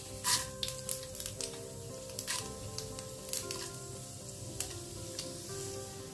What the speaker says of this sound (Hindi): पैन में मैंने तेल ले लिया है, ये 3 स्पून तेल है। अब इसमें ऐड करूँगी राई, अब ऐड करूंगी ये उड़द